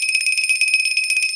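A shrill electronic bell rings continuously, loud and close, a fast even trill with no pauses and nothing else around it.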